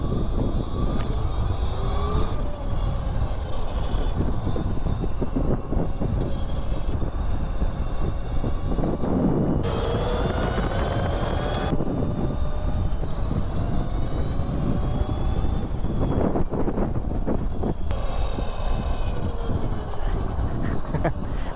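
A modified mini bike engine screams at high speed, a loud continuous buzzing drone with shifting pitch and steady wind rush across the whole stretch.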